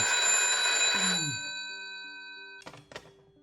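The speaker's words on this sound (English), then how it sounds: "Suddenly the phone rings." A telephone bell rings loudly and steadily for over a second in a film scene, then fades out, followed by a couple of brief knocks or thuds.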